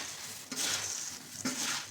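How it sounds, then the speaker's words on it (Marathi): Scraping stir of tempering being mixed into puffed rice for Kolhapuri bhadang, with soft sizzling and two brief rustling bursts, close by. "तर आता ही फोडणी आपल्याला मुरमुऱ्यात घालून मिक्स करायची घ्यायची."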